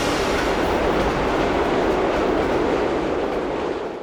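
A steady, loud roar of the Reunification Express rolling along Vietnamese rails, wheels rumbling continuously with faint clatter and no voices over it.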